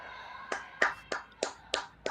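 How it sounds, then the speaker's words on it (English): Sparse, steady handclaps from a few people at a women's curling quarterfinal at the Saville Grand Prix, about six sharp claps in a regular rhythm, moderately distant, with no talking. "Have applause in the background."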